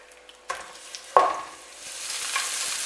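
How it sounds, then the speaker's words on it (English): Floured lamb shanks dropped into a hot pan set off a sudden loud sizzle that settles into a steady, broad frying hiss, preceded by a few soft kitchen clatters. "So we want to brown them really well all over."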